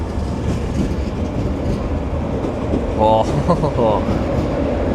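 An LNER class 91 electric, 91-105, bound for London King's Cross rumbles past at Doncaster station, a steady rail roar with rhythmic wheel clatter toward the end and a brief voice.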